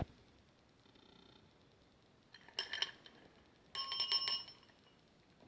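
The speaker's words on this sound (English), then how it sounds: "doorbell chimes" Old metal doorbell chimes from a relic find, the kind hung over a shop door, shaken in two short bursts of bright jingling after a near-silent start.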